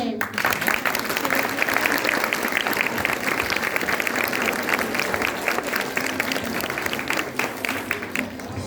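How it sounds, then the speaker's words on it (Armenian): A school audience at an alphabet-primer celebration claps loudly and steadily for the whole stretch. The applause is a dense, even roar of many hands, with faint crowd murmur mixed in. "ուզում ենք խնդրել բուռն ծափերով մեզ"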